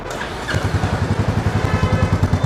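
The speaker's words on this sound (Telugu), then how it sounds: "బైక్ స్టార్ట్ చేసి ఎట్లా ఉంది" A freshly serviced Royal Enfield motorcycle idling after starting, a loud, close, steady low thump repeating several times a second with no talk over it.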